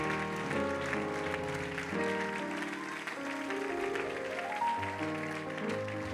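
Applause from a congregation swells under loud sustained organ and keyboard music, the clapping blending into the musical chords.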